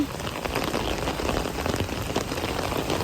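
Heavy rain pours down in a dense, steady roar of drops hitting surfaces, loud and close throughout with no voices.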